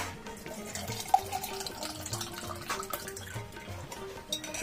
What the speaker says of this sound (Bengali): পানি তেলের মিল্ক শেকটাকে গ্লাসে ঢেলে নিচ্ছি।